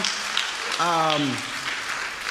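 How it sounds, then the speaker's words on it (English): Guests at a fall athletic banquet applaud a coach for his first season, a broad even wash of clapping with a short spoken phrase rising over it midway. "Can we give him a round of applause for his first season?"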